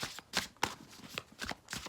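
A deck of tarot cards is shuffled by hand in close, crisp bursts of riffling and sliding, about half a dozen quick rustles spread irregularly through a quiet room, with no talk.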